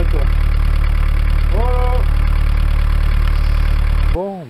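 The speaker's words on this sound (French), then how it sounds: "Et je laisse tourner un moment, ça va permettre de rincer tout le circuit de refroidissement." A Bavaria 38 sailboat's inboard engine idles steadily and loudly, running on to flush its cooling circuit, with a brief spoken word partway through, until it cuts off abruptly near the end.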